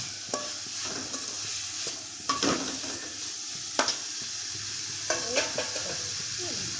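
A spoon scrapes and knocks against a pot as thick murrel fish curry is stirred, over a steady sizzling hiss, with a few sharp metallic clinks.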